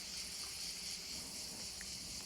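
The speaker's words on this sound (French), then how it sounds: "Tu entends au taquet les grillons." Dense, steady insect chorus, most likely crickets or cicadas, fills a hot summer dusk in the south of France near Montpellier; the shrill high buzz runs continuously without pause or voices.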